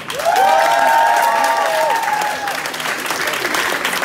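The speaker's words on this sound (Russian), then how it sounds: "Бурные овации нашим судьям." Vigorous applause for the judges at a Lindy hop dance contest, close and loud, with sustained cheering voices at first, then continuous clapping to the end.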